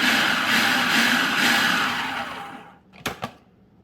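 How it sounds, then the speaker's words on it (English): A food processor whirs steadily as it pulses garlic cloves and onion, then winds down. Two quick, sharp knocks follow near the end, close up and loud. "I'm going to add my cloves of garlic, and I'm going to go ahead and pulse that and get it going"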